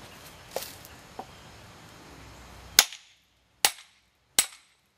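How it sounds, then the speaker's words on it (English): Wood being split with a froe while riving out a comb: three loud, sharp cracking strikes close by, spaced about a second apart, following a quieter stretch with a couple of light knocks. "when I get here I'll split that with the froe"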